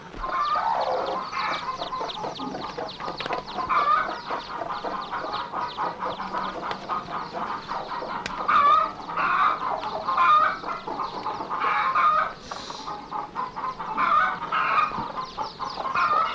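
A flock of hens clucks and cackles continuously nearby in a coop, dense overlapping calls with occasional louder squawks, no talking.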